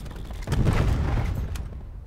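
Assault rifle hip fire in Call of Duty Black Ops, a short dense burst of loud rapid gunfire lasting about a second before cutting off.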